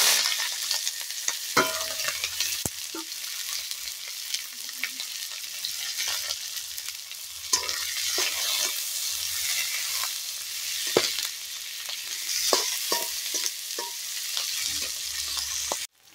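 Plenty of sliced onions and green chillies fry in hot oil in a wok, a steady close sizzle with intermittent stirring scrapes and clatter over about sixteen seconds, no voices.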